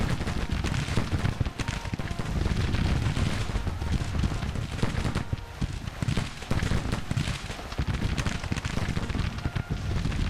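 Cavalry gunfire in Grand Tactician: dense, continuous crackling volleys of musket and carbine shots, loud and unbroken, with no clear voices.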